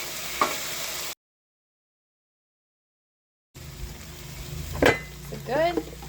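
Chicken quesadillas sizzling on a wiped-down griddle, a steady frying hiss broken by a long silent gap, then returning under a voice and a brief clatter of utensils.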